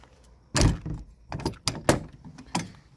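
Doors on a 30 ft Ford E450 V10 RV are opened and closed, giving a series of close clacks, latch clicks and thuds in an uneven rhythm with quiet gaps between them, and no talking.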